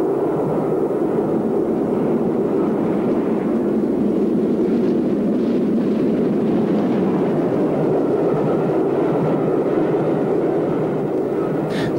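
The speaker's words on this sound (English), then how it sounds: "A Black 5 shows one side of its nature on a fast van train." A Black 5 steam locomotive hauling a fast van train gives a continuous heavy rumble and roar on old, noisy archival sound, steady and unbroken throughout.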